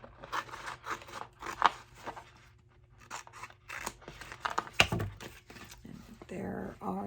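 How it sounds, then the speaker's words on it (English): Scissors snip out a paper figure of a girl with an umbrella in a series of close, crisp cuts with short pauses, one louder crunch near the end, while someone talks throughout. "So I'll just cut out our girl and umbrella."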